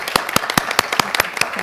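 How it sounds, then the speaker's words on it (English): Audience applause for a panel at the close of a government advisory committee meeting: a run of sharp, separate claps that sound sparse and fairly close, with no talk over them. "please join me in a round of applause for our panelists"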